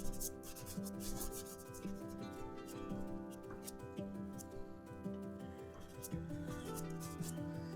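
Soft pastel is rubbed into paper in a steady, close scratchy friction that continues without a break, with faint music playing underneath.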